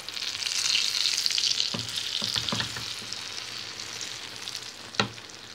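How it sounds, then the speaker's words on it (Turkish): Eggplant slices fry in a little oil, giving a continuous close sizzle with a few soft clinks and scrapes of a utensil, one sharper tap near the end. "Patlıcanlarımı şöyle az yağda kızartıyorum."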